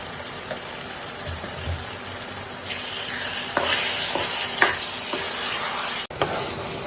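Prawns frying in oil with ginger garlic paste for a prawn and drumstick dish give a steady, close sizzle, with a few stirring scrapes and brief louder bursts partway through, and no talking.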